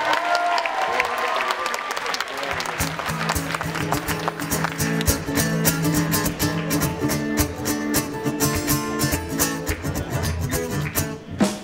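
A concert crowd applauds for a band, with thick, continuous clapping and some rhythmic, percussive claps, while a musical tone rings faintly underneath.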